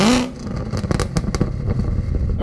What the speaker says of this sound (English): I'm sure you can hear it. That's raindrops. Yeah, it's raining.